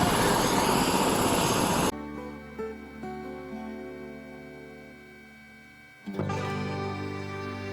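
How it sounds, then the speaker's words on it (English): Helicopter rotor and engine noise at an airport with frequent takeoffs and landings, loud and steady, dropping to a lower droning hum midway before surging back up near the end; no talking. "这个机场直升机起降真的很频繁。"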